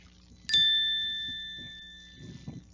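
Single bright bell ding sound effect, a clean metallic strike that rings out and slowly fades over a couple of seconds, alone over faint background.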